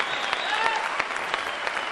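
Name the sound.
audience applause for karate students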